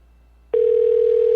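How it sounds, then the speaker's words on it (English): A telephone tone sounds on a call, a steady electronic hum starting abruptly after a brief silence and holding at a constant loud level, close and alone. "It's ringing."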